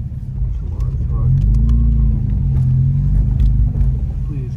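A car engine labours and hums steadily while stuck on an off-road trail in Holcomb Valley, a loud low drone that swells and holds under muffled people talking in the cabin.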